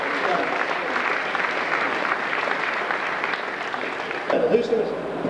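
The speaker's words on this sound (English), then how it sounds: "So a round of applause for both players." Sustained applause from an audience, even and fairly loud, tapering near the end as a voice begins talking.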